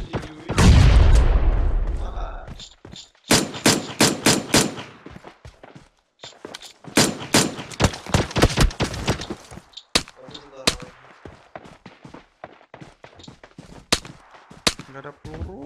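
Gunfire in the mobile battle royale game PUBG Mobile: a heavy explosion-like burst at the start, then rapid automatic volleys in clustered bursts, loud and close, with occasional footsteps and player voice chat between shots.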